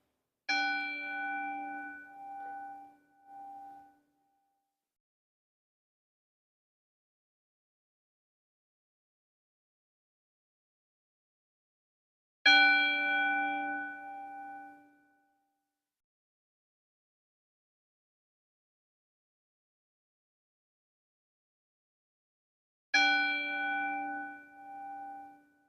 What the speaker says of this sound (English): just close your eyes and try to listen to this bell